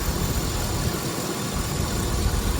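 A newly replaced brake vacuum pump runs on an Isuzu NPR truck, making a steady, even mechanical hum with a hissy, engine-like drone. The sound is fairly quiet, constant and close, with no one talking.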